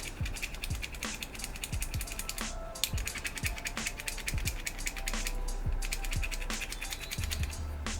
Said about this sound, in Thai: ผมจะลองถูให้มัน ไม่เป็นแม่เหล็กดูก่อน